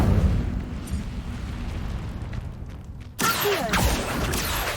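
In the Hogwarts Legacy video game, an Incendio fire spell is cast: a low rumbling roar builds, then a sudden bright fiery burst erupts and keeps crackling loudly.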